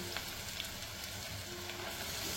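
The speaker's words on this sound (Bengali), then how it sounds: "এবারে এর ভেতরে মেখে রাখা মাটন দিয়ে দেবো" Mutton marinated in yogurt, cumin, coriander, dry chilli powder and turmeric goes into onions fried until red. A close, steady sizzle of hot oil runs throughout, with faint stirring scrapes.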